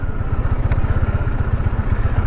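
A motorcycle engine runs steadily at a tourist parking area near Lavasa outside Pune, a loud, low, pulsing rumble that fills the whole clip with no speech over it.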